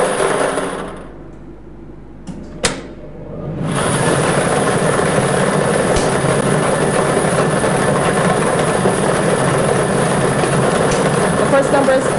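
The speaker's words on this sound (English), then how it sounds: "balls numbered 1 through 5 are released from the staging tube into the chamber" Lottery draw machine for an evening Double Draw, with numbered balls released from a staging tube into the mixing chamber: a brief quiet gap, a sharp click, then a steady loud rushing, rattling churn of air-mixed balls that continues throughout.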